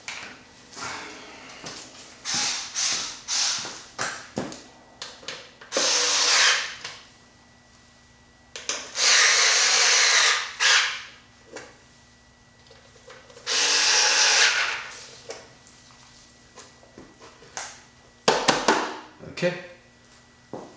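A power drill fitted with stubby bits drives screws, making several short buzzing whirs and a few longer sustained runs with clicks and handling knocks between them. A voice speaks quietly in the pauses.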